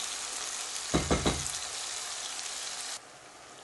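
Tomatoes and onions cooking down in a pan for a biryani base, with a steady close sizzle broken by a few quick stirring scrapes near the start. The sizzle drops in level toward the end.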